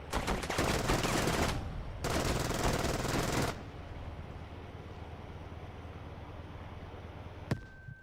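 Rapid gunfire and grenade blasts in a World War II-style video game, loud and continuous for about three and a half seconds with a short break, then fading into distant rumbling and a single sharp bang near the end.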